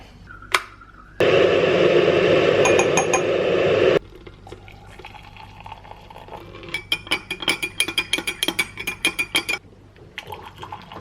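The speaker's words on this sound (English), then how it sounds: "I'm gonna do a matcha in a glass mug so you can see it." Matcha is made in a glass mug: a loud, steady pour of liquid lasts a few seconds, then a quick run of sharp glassy clinks and whisking taps follows close by, with no one speaking.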